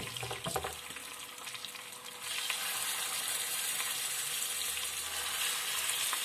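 Chicken wings fry in a pan, a steady loud sizzle that grows denser and brighter partway through, with a few clatters and stirring noises early on.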